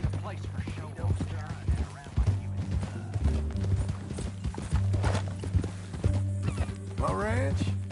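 Horse hooves clip-clop steadily in Red Dead Redemption II, a rhythmic clatter running under near, continuous conversation between characters, with a brief whinny near the end.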